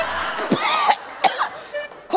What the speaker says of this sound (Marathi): खोकल्याचा त्रास कधीपासून आहे?